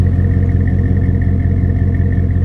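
A 2005 GMC Sierra 1500 pickup with Z71 package and dual exhaust idling, a loud steady low engine rumble with an even throb and no change in revs, heard alone.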